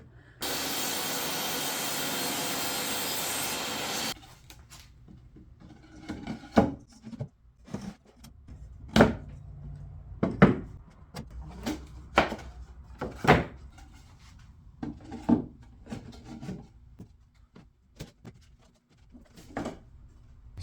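Wooden drawer boxes being sanded by hand. A few seconds of steady broadband rasping are followed by scattered, uneven scrapes and knocks, close and moderately quiet, with no voices.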